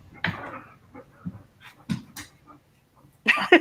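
Maggie the dog pants and whimpers in short breathy bursts close by, with soft whines scattered between, and a louder rustle or huff near the end.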